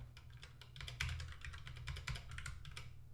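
Rapid clicking of keys on a computer keyboard, irregular bursts of close, crisp taps with a few louder keystrokes, no speech.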